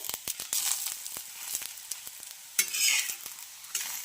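Crisp cabbage dhapate flatbreads roast on a hot pan with a soft, steady sizzle, broken by sharp spatula clicks and scrapes throughout, close by and with no talking.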